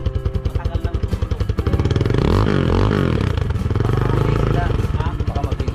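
A motorcycle engine running after its carburetor was cleaned, idling with a rapid rhythmic putter, then revving up loudly and holding high before settling back, with voices talking over it.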